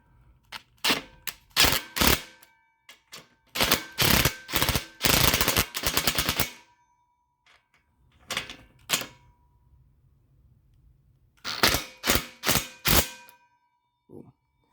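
Sharp mechanical clicking and ratcheting in quick bursts while a part is tightened on a Beckett gas-fired steam boiler burner, close and fairly loud, with pauses between the runs.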